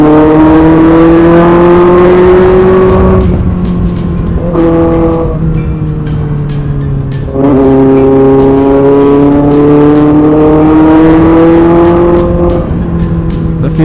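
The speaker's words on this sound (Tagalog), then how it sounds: "Never ending traffic." Car engines move through heavy road traffic. One close motor rises and falls in pitch across several gear-like sweeps, with a steady road drone beneath it.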